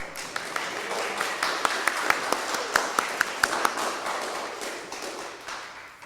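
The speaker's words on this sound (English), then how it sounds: "I would like to ask a special round of applause for our pianist today" Scattered applause from a church congregation for the pianist at a service, a steady soft patter of many hands with a few sharper individual claps standing out, moderately distant and fading slightly toward the end.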